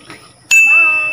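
A bright notification bell sounds once, a sharp metallic ding that rings out with a lingering shimmering tail after a faint quiet lead-in.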